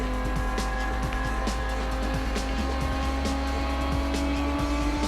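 Lexus race car in Need for Speed Most Wanted, a steady loud engine drone with shifting tones and brief tire squeals throughout.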